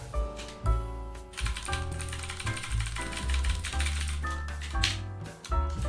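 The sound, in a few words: loud computer keyboard typing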